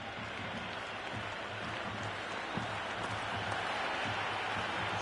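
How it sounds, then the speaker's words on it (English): A stadium crowd at a match in the cricket video game Cricket 26 makes a steady, dense buzz of cheering and applause-like noise at moderate volume, with faint talk over it. "It's the most enthusiastic crowd you could ever see right now. There's a buzz, a real buzz coming from the stands."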